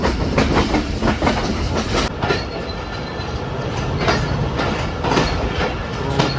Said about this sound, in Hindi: तो हैदराबाद जंक्शन पहुंच चुकी है हमारी ट्रेन।